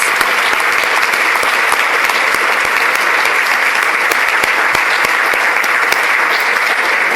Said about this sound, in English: If you could join me in a round of applause for all of the winners and all of the competitors.